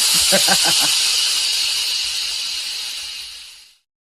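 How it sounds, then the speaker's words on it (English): A loud, steady hiss of escaping steam, close and continuous, with a brief rumbling pulse at the start before it fades and cuts off. "how loud the steam engine noise is"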